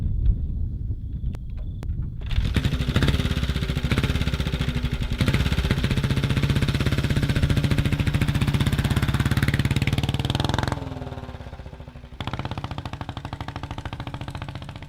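A 1927 Matchless 350cc single-cylinder four-stroke motorcycle with exposed pushrods and twin exhaust ports starting up and running outdoors in the countryside, a loud rapid thumping beat that holds steady, then drops lower and fades slightly near the end.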